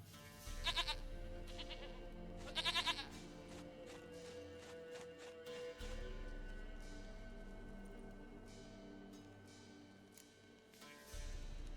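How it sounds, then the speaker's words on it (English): Goat in The Witcher 3: Wild Hunt giving two short wavering bleats early on, fairly quiet over a low ambient game background with soft movement, then a faint third near the end. "Goat of mine, dearest,"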